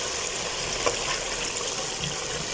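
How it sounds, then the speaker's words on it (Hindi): Water is poured into browned, frying chicken pieces to start a black pepper chicken korma gravy, a steady close sizzle and bubbling that runs continuously without talk. "अभी हम ग्रेवी के लिए पानी डाल लेते हैं, तकरीबन 100 मिलीलीटर।"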